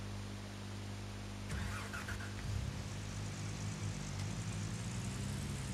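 A truck engine cranks and catches in the mining game Gold Rush, a short starter whir followed by a low, steady idle rumble, fairly quiet and with no talking.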